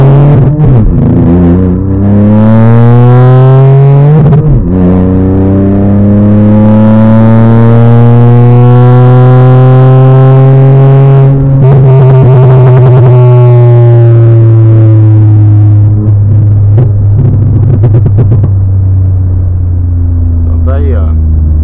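A car launching hard with traction control off: loud engine roar climbing steeply through several gear changes, dipping briefly at each shift, then easing off near the end, close and dominant throughout.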